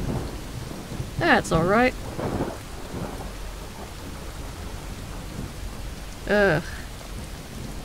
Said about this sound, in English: What I wouldn't do to be out of this rain.